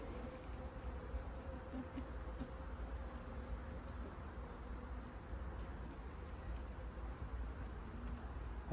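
Honey bees swarm around a hive while a Buckfast queen is introduced, making a steady, dense buzzing drone that stays close and unbroken throughout, with no talking.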